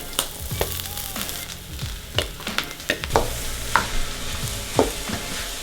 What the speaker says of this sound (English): we're gonna saute it for a bit in a pan, just to extract some of the moisture from the mushrooms